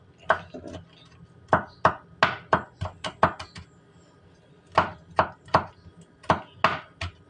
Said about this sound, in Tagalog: maghiwa naman tayo ng bawang